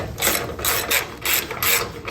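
A ratchet clicks rapidly and loudly up close in repeated bursts while loosening 17 mm bolts holding a bracket on a Toyota Tacoma truck, with no voices.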